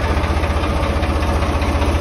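A 2019 Swaraj 855 tractor engine idles close by with a loud, steady low chugging pulse and a vibrating rumble, running on its own without any voices.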